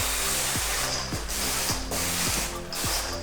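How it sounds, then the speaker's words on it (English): Water slip solution sprayed from a pump spray bottle onto a car's rear quarter panel, a loud hissing burst repeated about every half second alongside a mechanical trigger rhythm, close up with no talking. "Let's start with spraying water, slip solution."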